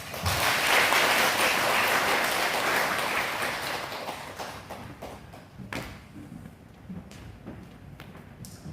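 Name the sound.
applause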